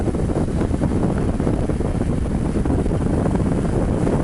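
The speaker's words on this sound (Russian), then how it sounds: "Свежий ветер задувает" Fresh wind off the sea blows steadily, a continuous, full rushing roar buffeting the microphone without pause.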